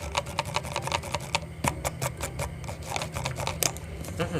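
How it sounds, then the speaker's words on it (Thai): The scroll wheel of a Microsoft computer mouse ticks close up in quick, uneven bursts of sharp little clicks, fairly quiet, with brief pauses between runs. "ฟังเสียงลูกกิ้งฟังเสียงลูกกิ้งนะ"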